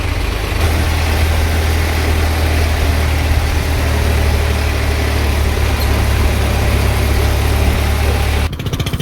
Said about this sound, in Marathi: तर ट्रॅक्टर नेऊन शेडवर लावतो